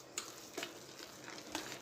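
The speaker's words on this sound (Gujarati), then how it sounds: "પછી પાછું 5 મિનિટ જેવું આપણે ફેટી લઈશું." Urad dal batter for dahi vada being whisked by hand in a bowl, a few soft separate strokes slapping and swishing in a quiet kitchen.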